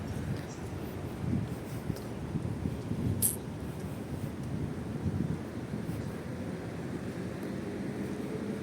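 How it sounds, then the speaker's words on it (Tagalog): Steady wind buffets the microphone during a walk through a dark park, a continuous low rumble with gusty swells throughout, fairly quiet. "Mahangin."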